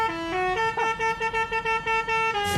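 A tractor's musical horn plays a melody as a string of loud, bright, stepped horn notes in a bouncy rhythm, close and clear, ending on a final held tone.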